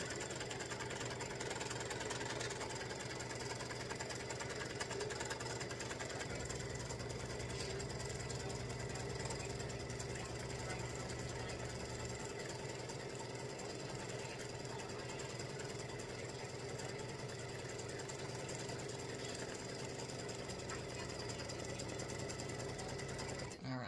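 An embroidery sewing machine fitted with a 9014 needle stitches continuously, a dense steady mechanical whirr and rapid needle chatter running unbroken throughout at moderate level.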